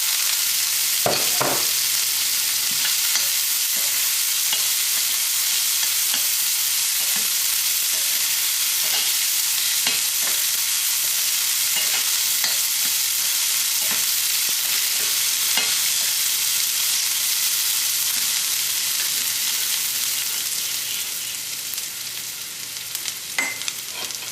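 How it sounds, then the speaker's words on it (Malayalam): Dried red chillies frying slowly in oil for Kerala inchi curry, a loud continuous sizzle with frequent crackling pops and occasional stirring scrapes, fading slightly near the end. "ഉണക്കമുളകിനെ നമുക്ക് എണ്ണയിലിട്ടിട്ട് പതുക്കൊന്ന് വറക്കാം."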